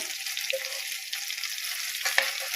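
Korameenu (murrel) fish fries in hot oil with a steady, close sizzle and crackle throughout, a few brief pops standing out near the end.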